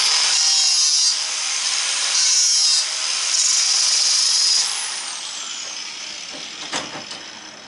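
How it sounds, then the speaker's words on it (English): Light grinding on a scrap radiator made of copper, brass and aluminum, a steady bright rasping that runs loud and continuous for about five seconds, then fades to quieter scraping with a brief knock near the end. "You don't have to grind hard, just kind of light."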